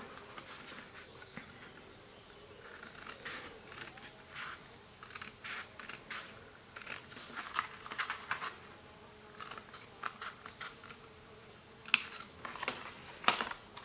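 Quiet, close snips and clicks of scissors cutting paper for a pop-up mini album, coming in irregular bursts with short pauses over a faint background hum.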